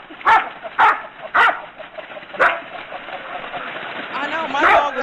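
A dog barks several times in sharp bursts, then yips and whines, fairly loud and close against a low background hum.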